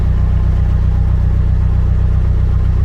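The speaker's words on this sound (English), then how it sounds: "Funny little engine." A narrowboat engine runs on a canal at Bratch Locks near Wolverhampton, a loud, steady low chugging with an even rhythm and no talking.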